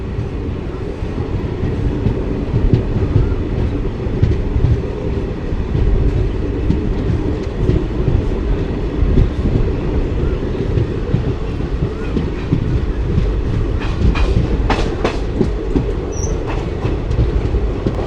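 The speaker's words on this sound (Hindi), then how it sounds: "तो हमारी जर्नी हो रही है सतलुज एक्सप्रेस में" The Satluj Express leaving Moga rolls along the rails with a steady rumble, rhythmic clatter and occasional wheel squeal, heard close from inside the train.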